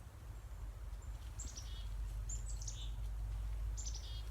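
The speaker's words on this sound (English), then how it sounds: "I'm hearing birds up in the trees." Birds chirp up in the trees on a farm, faint and distant, with several short clusters of high twittering calls spread across the stretch above a steady low rumble of wind or background noise.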